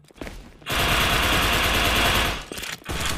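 Sustained automatic gunfire in Wardeka, an Indonesian third-person shooter game: a dense, loud burst of rapid shots lasting under two seconds, followed by a couple of short, quieter bursts.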